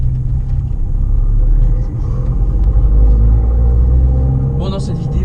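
An Abarth 595 Competizione drives in its normal city mode with a deep, steady engine rumble inside the cabin and a light rise in revs, and someone speaks over it.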